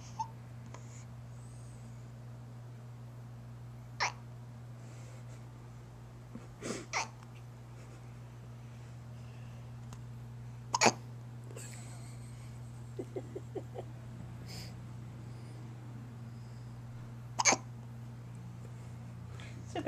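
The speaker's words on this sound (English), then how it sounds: "It's a big hiccup from a little baby." A little baby hiccups close by, short sharp hiccups spaced several seconds apart, some in quick pairs, over a steady low hum with soft breathing between.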